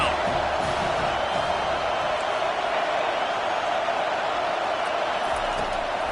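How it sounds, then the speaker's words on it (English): A college football stadium crowd roars steadily and loudly on a third down, a dense wall of cheering and noise with no pauses. "Decibels rising as the crowd gets behind this defense on third down."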